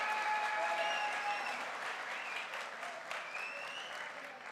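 Crowd applause at a diamond promotion celebration, a dense steady wash of many hands clapping at once with some cheering, strong at first and easing slightly toward the end.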